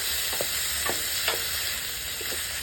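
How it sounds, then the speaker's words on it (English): Meat browning in a pan for paella: a dense, steady sizzle close by, with a few light stirring scrapes and clicks spread across it, and no voices. "We mix now. And we're waiting until it's browning."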